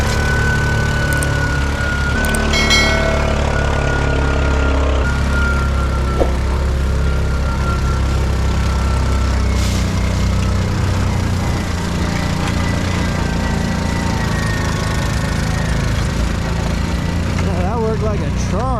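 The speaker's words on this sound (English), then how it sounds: "We went ahead and hooked the tractor up." A tractor engine runs steadily while towing a parts sled salvaged from a torn-down mini snowcat and snowmobile. It is a loud, constant low drone with a few clanks and knocks riding on top.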